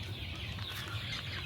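Joper chickens cluck softly in a farm coop, low repeated clucks and faint bird calls over a quiet, steady background.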